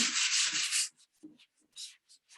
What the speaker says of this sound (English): take your sanding block and sand it off